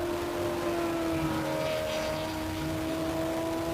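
An old classic Ferrari V8 race car roars through a hillclimb course, a sustained loud engine note holding steady with a slight pitch rise, heard at moderate distance without talk.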